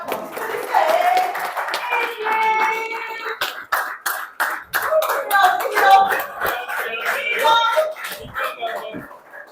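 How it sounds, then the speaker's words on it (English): Scattered applause at a crypto developer event, a mix of irregular hand claps close and loud, with faint voices and a cough in the room. "Round of applause."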